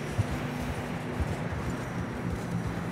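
Hooves of a horse in Red Dead Redemption 2 clip-clopping at a steady walking rhythm over a broad, noisy outdoor ambience, each footfall close and fairly soft.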